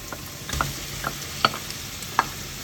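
White onions and bacon lardons sizzle quietly in a pan, a soft steady frying hiss broken by a few sharp pops and spoon taps against the pan as they are stirred.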